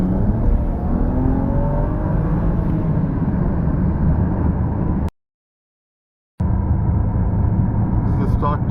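A BMW E90 335i with an MHD flash tune accelerates, giving a steady engine drone and whir heard from inside, cut by a brief dropout midway, with faint talk over it.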